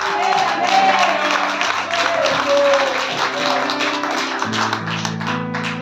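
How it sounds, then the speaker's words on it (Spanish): A church congregation applauding, a dense, sustained wash of clapping from a crowd that continues steadily for several seconds, with sustained organ or keyboard tones underneath. "Denle un fuerte aplauso a Dios que vive."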